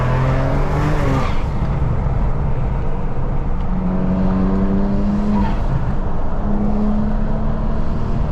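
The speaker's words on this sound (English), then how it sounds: "I hope the camera is picking up how good that blowout valve is." A 2019 BMW 335i with a Tial blow-off valve and upgraded inlets drives along, its engine droning loudly and steadily with rising and falling pitch as it accelerates and shifts, plus a brief whoosh early on.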